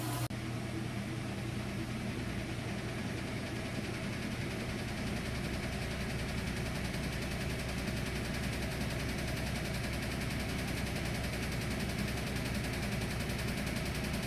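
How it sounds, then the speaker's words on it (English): A Whirlpool washer in its spin cycle, its unsecured drain hose rattling and knocking behind the machine, a steady close mechanical hum and clatter that runs the whole way through with no talk. "That little noise you're hearing is actually my drain hose back here."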